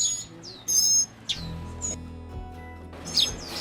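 Sparrows in an enclosure at the Tucson Wildlife Center make a few quick, high chirps and one short burst of calls, scattered over a low, steady hum.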